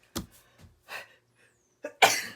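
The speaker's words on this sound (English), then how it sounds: "I keep sneezing" A few small coughs or stifled sounds, then a loud, breathy sneeze bursts out at the end.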